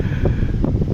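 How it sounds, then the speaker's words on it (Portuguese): Wind in São Paulo buffets the microphone in a steady low rumble with gusty swells, loud and close, no voices. "Olha como tá ventando."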